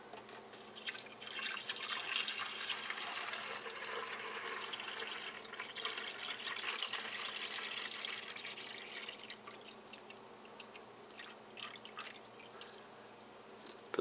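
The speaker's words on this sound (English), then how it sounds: "Put the water in." Water pours and trickles steadily into an old coffee maker at home, a continuous close splashing flow with faint drips throughout.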